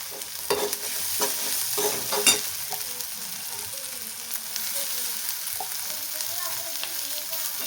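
Browned onion sizzles in a pan as peanuts and coriander leaves are stirred in, steady frying hiss with several sharp spoon scrapes and clinks near the start, close and fairly loud.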